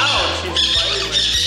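Parrot squawking in the aviary at Parrot Mountain and Gardens in Pigeon Forge, sharp harsh calls repeating over roughly a second and a half, close and fairly loud amid general visitor chatter.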